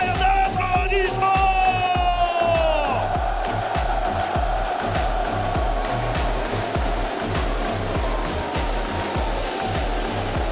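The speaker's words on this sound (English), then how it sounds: "Et pour vos deux équipes, un tonnerre d'applaudissements." Large esports arena crowd at a League of Legends championship match, a steady wash of cheering and applause with whoops, loud and sustained under a booming PA announcer and pulsing music.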